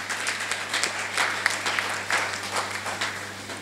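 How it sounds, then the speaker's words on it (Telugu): Audience members at a spiritual event clap for a performer who led a flute meditation. The applause is moderate and steady, with individual claps standing out, and there is a low hum in the background. "చక్కగా సంగీత నాద ధ్యానం ఫ్లూట్తో చేయించిన లక్ష్మీ మేడంకి ఒకసారి గట్టిగా చప్పట్లు"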